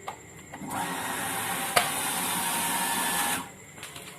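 A household electric water pump starts up after being plugged in: a short click, then a steady motor whir holding for a few seconds before cutting off, near and moderately loud with no speech.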